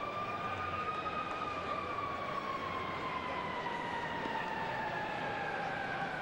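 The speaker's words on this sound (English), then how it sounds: "You hear that siren in the background?" At a Diamondbacks at Cubs baseball game, a far-off emergency siren wails in long, slowly falling tones over a steady, dense crowd murmur.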